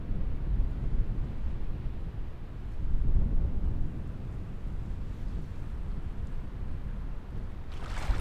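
Strong wind buffets the microphone beside a lake in the wilderness of Michigan's Upper Peninsula, a steady low rumbling roar that swells briefly midway, with no voices.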